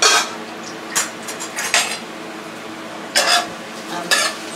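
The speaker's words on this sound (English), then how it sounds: "I'm stirring up my sauteed onions" A utensil stirs sautéed onions in a pan, with a few sharp scrapes and clinks that come in irregular bursts over a faint background hiss.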